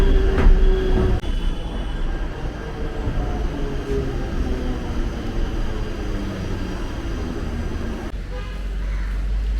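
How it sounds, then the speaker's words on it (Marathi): Mumbai local train rolling into Cotton Green station, a steady loud rumble of wheels and carriages with brief metallic squeals, the noise continuous throughout and dipping slightly near the end. "आता कॉटन ग्रीन रेल्वे स्टेशन येत आहे"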